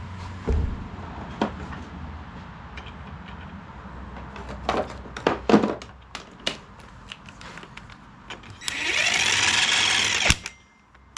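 Power tool drives a fastener into the deck of a Lesco Viper 54-inch zero-turn mower, with a few short taps and clunks before one loud, sustained whir of several seconds close to the microphone that stops abruptly.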